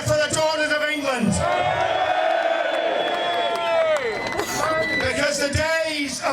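A crowd at a street rally cheers and whoops loudly and continuously, a dense wall of voices rising to shouts, with a few brief claps near the end.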